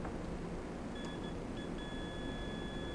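Digital multimeter in continuity mode beeping against a shorted diode in an ATX power supply, thin steady tones coming in short bursts then holding, faint beneath a loud broadband hiss.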